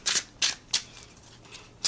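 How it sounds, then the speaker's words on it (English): A bendy tarot card deck is overhand shuffled, giving four or five short crisp riffling bursts in quick succession, close and alone. "The overhand shuffle is fine."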